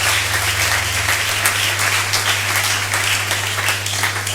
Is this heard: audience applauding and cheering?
yes